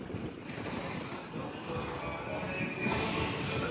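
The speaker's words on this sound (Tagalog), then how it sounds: "Mahangin dito" Wind blows steadily across an open outdoor spot, a continuous broadband rush with gusts rising near the end, with no clear voices over it.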